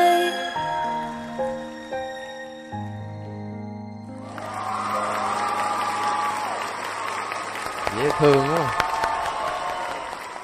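Studio audience at a Vietnamese televised talent show bursts into loud, sustained applause, rising after a sung passage and filling the room, with a voice briefly calling out over the clapping.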